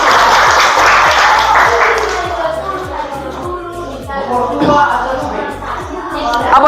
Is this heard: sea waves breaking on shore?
no